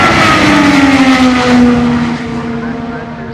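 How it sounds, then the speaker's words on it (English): An IndyCar race car at high speed during Indy 500 qualifying in 2022 screams past loud and close, its engine pitch sliding downward as it recedes and fades. "Dixon exits turn 2, cranks it into high gear, and heads toward turn 3."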